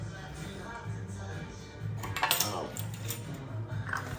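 A spoon scraping and clinking against a bowl while mixing dry ingredients with cinnamon for bread dough, quiet close taps building into a short burst of rattling in the middle, then softer scrapes.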